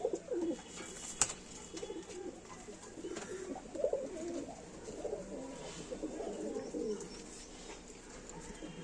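Flying pigeons with clipped wings coo softly in overlapping low burbles, fairly faint and steady, with a sharp click and light rustling in a quiet loft.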